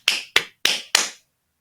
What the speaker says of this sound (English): And you just clap.